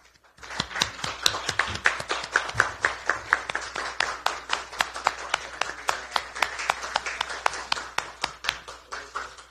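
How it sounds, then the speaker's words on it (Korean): A room of audience members claps steadily to welcome two new recruits at a Democratic Party of Korea ceremony, the dense clapping running continuously at moderate loudness for about nine seconds with no talk over it. "박수로 환영해 주시기 바랍니다."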